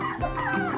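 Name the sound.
puppy vocalizing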